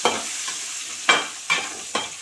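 Green chillies fry lightly in a pan, giving a soft close sizzle with three or four sharp spatter bursts at an uneven pace. Nobody speaks.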